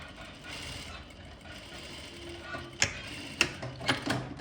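A sewing machine stitches fabric for a Japanese cloth bag, giving a low mechanical whir that ends in a few close, sharp clacks and ratcheting knocks as the stitching stops and reverses.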